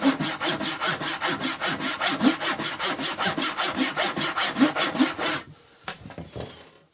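A Parkside Japanese pull saw cuts through wood in a steady, even rhythm of about twenty close, loud rasping strokes, then stops, leaving a few quieter handling sounds.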